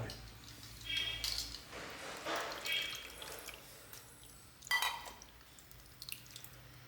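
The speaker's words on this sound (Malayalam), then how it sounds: "പുളി പിഴിഞ്ഞിവിടെ പാർന്ന് വയ്ക്കാം." Tamarind is squeezed by hand for a vatta fish curry and its juice poured off in a home kitchen: soft wet squishing and dripping, then a short splashing pour partway through, fairly close and quiet.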